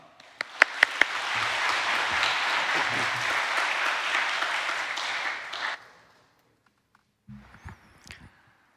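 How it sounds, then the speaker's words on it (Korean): A church congregation breaks into loud applause welcoming the preacher, swelling and holding for several seconds, then fading, followed by a few soft thuds. "나오실 때 큰 박수로 환영하겠습니다"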